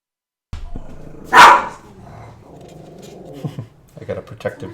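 A protective dog gives one loud sharp bark close by indoors, followed by a person talking.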